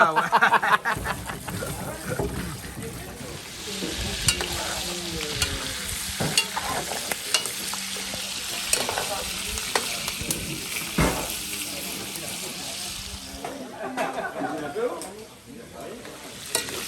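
Potatoes for a carry sizzle steadily in a pan while being stirred, with scraping and shuffling strokes through the frying hiss, close and continuous, as people talk in French in the background.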